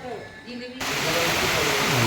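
Monsoon rain beginning to pour in rural Konkan comes in suddenly as a loud, steady hiss that swells and holds, with a voice speaking briefly beneath it.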